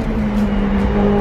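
McLaren 720S V8 engine accelerating hard on city streets in traffic, a loud steady rising drone with a strong low tonal hum, heard from inside the car without talk.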